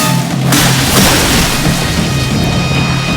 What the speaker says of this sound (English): Water bending battle.